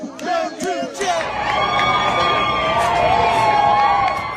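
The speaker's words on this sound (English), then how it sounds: "Crowds erupt into applause, cheers and jeers as the verdict in former US President Donald Trump's hush money trial is revealed outside a Manhattan court." A crowd outside a Manhattan courthouse erupting as a verdict in Donald Trump's hush money trial comes in, with close shouts and whoops giving way to sustained cheering and jeering.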